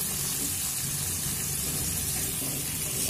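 Pumpkin, radish and cauliflower stalks fry in a pan over a medium flame, giving a steady, close hiss and sizzle that stays even throughout with no talk.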